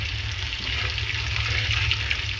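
Nigella seeds frying in hot oil in a pan as they are stirred, a steady close hiss and sizzle with a low rumble underneath, continuous and without speech.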